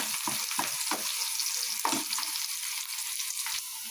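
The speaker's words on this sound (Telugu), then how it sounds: "ఈ ఉల్లిపాయలు, కొత్తిమీర, పచ్చిమిర్చి వేసిన తర్వాత కాసేపు ఉల్లిపాయలు గోల్డెన్ రంగులో వచ్చే వరకు మనం వేపుకుందాం" Chopped onions, coriander and green chillies fry in a pan with a steady, close sizzle, broken by several quick scraping stirs early on and a few later, with no voices.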